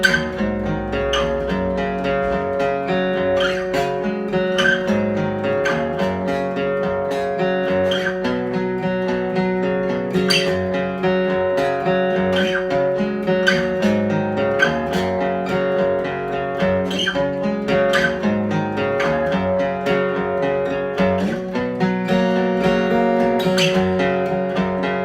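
A chorus riff is played on guitar, a steady arpeggiated pattern of picked notes ringing over one another, close and even in volume, with no talking.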